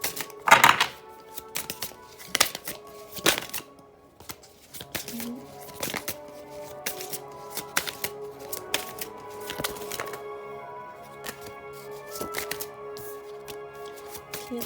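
Tarot cards are shuffled and drawn, making soft riffling, flicking and tapping sounds. They come as a run of close, light clicks with a sharper burst near the start, and the room is otherwise quiet.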